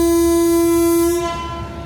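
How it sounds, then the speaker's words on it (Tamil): Horn of the Coimbatore–Tirupati Intercity SF Express, an LHB train, sounding one loud, steady blast with a bright harmonic tone for about a second before cutting off, leaving rumbling station background. "எஸ், ஹார்ன் அடிச்சிட்டாங்க."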